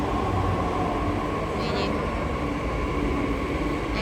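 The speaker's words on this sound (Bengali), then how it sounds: "বৈশালীর মেট্রো চলে এসছে" A Delhi Metro train pulls into Vaishali station, a steady loud rumble and whine of the carriages filling the platform, with a brief higher squeal partway through.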